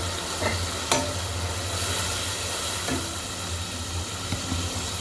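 Onions and spices frying in a pan with a splash of water, cooked for a Bangladeshi fish curry with sponge gourd, giving a steady low sizzle with a few soft stirring scrapes, moderately near and without talk.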